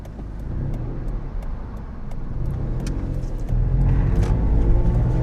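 A Toyota Aygo driving on a UK road, heard from inside as a steady loud engine and road rumble with a light ticking, swelling to a heavier drone partway through as it speeds up.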